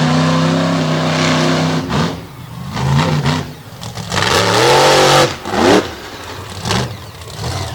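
A dirt track modified race car at Abbottstown, Pennsylvania revs hard and rises and falls in pitch, loud and close, with surging engine bursts and short lulls between throttle blips.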